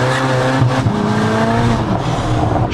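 A tuned 700 hp Volkswagen Golf 6R accelerating hard, its engine roaring loud and close with rising harmonic tones and a brief dip before it climbs again, with no talking.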